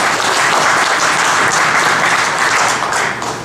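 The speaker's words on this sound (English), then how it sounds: "Yeah, round of applause." Dense, sustained round of applause from an audience at a mobile health panel event, loud and steady before easing slightly at the end.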